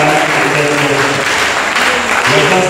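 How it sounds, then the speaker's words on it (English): Loud, dense applause fills a community gathering for a peace campaign in the Agona Ahanta District, continuous throughout, with a voice audible beneath the clapping. "can you give a round of applause to Mr. Ahanta?"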